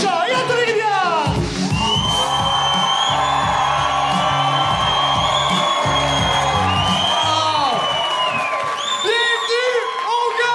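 A studio audience at a French-language game show roars for the hosts with loud cheering, whoops and applause. A host's amplified voice carries over the crowd at the start before the din swells and holds.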